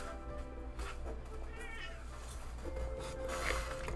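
A cat called Ghost lets out a few plaintive, whining meows, one rising wail midway and a shorter cry near the end, close by against a low background hum.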